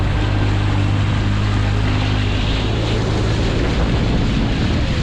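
A Kawasaki Ultra jet ski engine drones loud and steady on the water, its throttle held up, with wind and water rush over the whole stretch.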